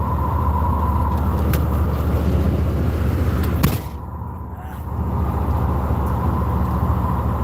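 A truck rolls along the road with a steady broadband engine and tire roar from inside the cab, briefly dipping around the midpoint before resuming, with no talking.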